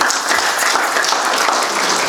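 A church congregation applauds in praise, a steady, loud wash of clapping filling the space with little else heard.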